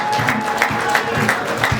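Sparse, lukewarm applause from an awards-gala audience greeting a special jury prize winner, a steady wash of scattered clapping with faint crowd murmur and no standout cheers.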